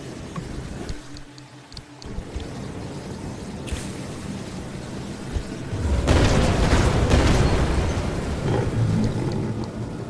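An electrical turret blows up in the game Pacific Drive, a sudden loud roaring burst partway through that rumbles on over steady wind-like ambience, with no speech.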